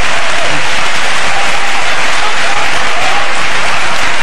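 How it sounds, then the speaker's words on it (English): A church congregation claps hands in praise, a dense, loud, continuous wash of clapping close by with a faint crowd murmur beneath. "clap your hands and praise him"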